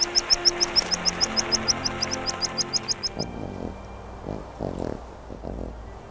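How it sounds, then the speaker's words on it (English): A dense chorus of many birds calling, rapid repeated high chirps in a steady rhythm for about three seconds, then scattered fainter calls and low rustling bursts with no talk. "Millions of birds arrive from the south."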